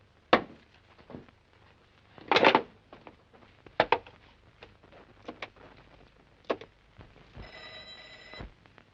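A telephone rings in a short trilling burst near the end, after scattered knocks and clatter; no one speaks.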